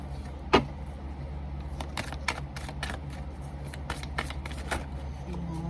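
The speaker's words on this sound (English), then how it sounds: "I'm just going to be shuffling a few cards from" Tarot cards from a homemade personal deck are shuffled, with soft riffling clicks scattered across a low steady background hum; close and quiet, no talk.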